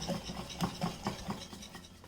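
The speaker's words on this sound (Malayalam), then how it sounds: "ഇതുപോലത്തെ ഒരു ഹാൻഡ് വിസ്ക് കൊണ്ട് ഇതുപോലെ മിക്സ് ചെയ്ത് കൊടുത്താൽ മതി കേട്ടോ." Hand whisk beating eggless jackfruit wheat cake batter in a bowl, a fast rhythmic scraping and rubbing with regular strokes about four per second, close and moderately loud, no talking.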